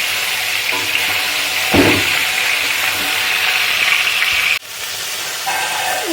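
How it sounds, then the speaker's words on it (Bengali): Elephant apple (chalta) pieces fry in hot oil for a pickle, giving a steady broadband sizzle with a brief stir or bubbling burst and a short drop in level partway through, with no talking. "আমি চালতাগুলোকে তেলের মধ্যে দিয়ে দিলাম"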